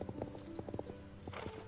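A horse's hooves clip-clop in the video game Star Stable, a quick irregular run of close, crisp hoof strikes over a brief stretch.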